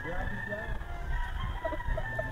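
White Kelso rooster crowing among other fowl, with a steady background of clucks and farmyard noise and some nearby talk underneath.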